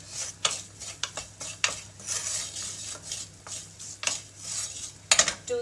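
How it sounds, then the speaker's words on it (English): Garlic and sliced chili toasting in a pan, heard as irregular clinks and scrapes of a utensil stirring against the pan over a faint, low sizzle, with no talking. "I'm going to toast up a little bit of garlic and chopped or sliced chili."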